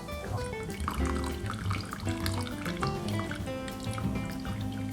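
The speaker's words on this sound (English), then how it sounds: "now it's time to separate our broth from the shells" Prawn broth strained away from the shells for palabok, a steady stream of liquid splashing and trickling with scattered drips, continuous and moderately close.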